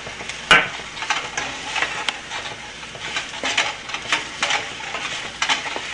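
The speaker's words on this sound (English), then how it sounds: "just stir fry for about minute and a half" Okra stir-fried with salt, mango powder and gram flour (besan) crackles in a pan under a fairly loud run of stirring scrapes and clicks, with one sharp knock near the start.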